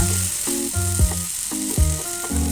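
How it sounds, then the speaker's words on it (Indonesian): Soaked rice vermicelli is stirred into garlic frying in a pan for a bihun risol filling, a continuous sizzle with rhythmic clunking stir strokes about every half second, close and alone. "Ini tadi bihun yang sudah direndam, kita masukkan dan kita aduk rata dengan bawang putihnya."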